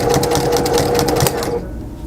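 A sewing machine runs a quick burst of back stitching on a baby blanket, a close, fast rhythmic whir and needle patter that stops abruptly near the end.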